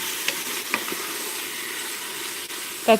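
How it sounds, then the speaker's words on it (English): Bacon fat sizzling as it sautés vegetables in a pan while Hawaiian pork is cooked, a steady close hiss of frying with a brief stir or clatter near the end. "the fat from the bacon is really starting to come out and saute into all of the other veggies in there"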